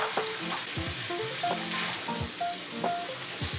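Green beans stirred in a hot pan while they fry, with a steady crackling sizzle and scattered clinks and scrapes of the utensil, close and even, with no voices.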